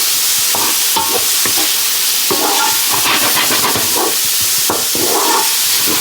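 Mixed vegetables for a burger mix fry in a pan with a loud, steady sizzle, while repeated scraping stirs and clatters over the hiss.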